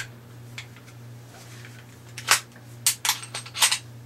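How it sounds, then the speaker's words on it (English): Glock 36 pistol in .45 ACP being reassembled: a few sharp metallic clicks and clacks as the slide goes on, clustered near the end over a faint steady hum. "Drop in a barrel, recoil spring, just like that, and slide on the slide."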